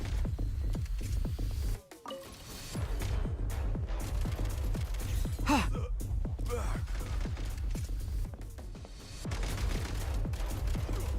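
Laser weapon shots in a Genshin Impact Snezhnaya quest fire in a rapid, uneven stream of sharp zaps and bursts, fairly loud and close, with brief pauses between volleys and a player's reactions mixed in.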